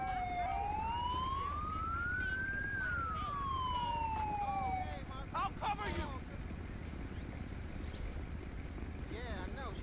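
An ambulance siren in GTA 5 with the LSPDFR police mod, at an airport attack scene, wails with a rising and falling tone, loud and close, then gives way to quick yelping bursts over a steady background rumble of traffic.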